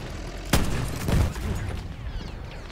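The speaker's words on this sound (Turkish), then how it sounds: "Oğlum nasıl bomba atıyorlar lan onlar buraya?" Grenade blasts in the World War I shooter Battlefield 1: a sharp explosion followed by a second rumbling burst and lingering debris noise, fairly close and loud with no talk over it.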